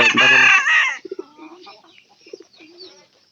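A large-breed chicken gives one loud, close crow, then a few soft, scattered clucks that trail off into quiet.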